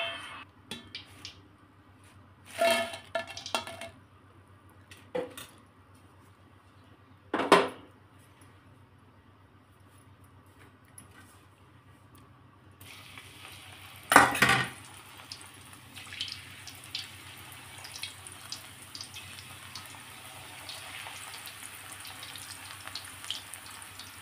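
Banana chips frying in oil, then lifted out onto a plate: a quiet stretch with a few brief splashy bursts, then a steady close sizzle and bubbling for the second half.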